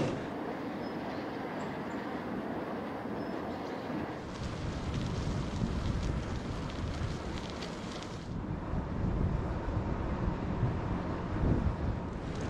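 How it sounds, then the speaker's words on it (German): Steady wind buffets the microphone on a drafty hilltop near wind turbines, a constant broad roar that strengthens midway and never lets up, with no talking. "Ganz schön zugig hier oben."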